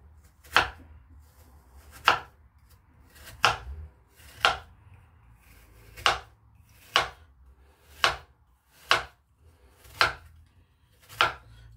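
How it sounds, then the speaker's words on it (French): Garden apples for an apple tart are chopped on a board, about ten sharp, evenly spaced knife strikes, close and alone. "Nous prenons nos pommes. Nous allons les couper."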